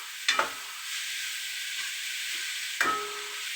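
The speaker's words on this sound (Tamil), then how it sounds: "இப்போ வதங்கட்டும்." Vegetables sautéing in a pan for homemade fried rice, a steady close sizzle and hiss with two brief scraping stirs of the spatula against the pan.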